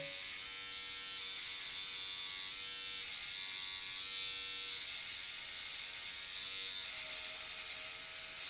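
An MLT trimmer-shaver, a Philips OneBlade copy, hums as a steady close electric buzz throughout, with no speech.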